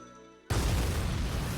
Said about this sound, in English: An explosion has occurred on board.